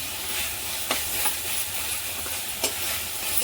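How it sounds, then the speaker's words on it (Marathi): Spiced masala sizzles steadily in hot oil while being stirred and sautéed for tomato sev bhaji, a constant frying hiss broken by a few soft scraping strokes of the spoon. "छान परतून घ्यायचा हा मसाला"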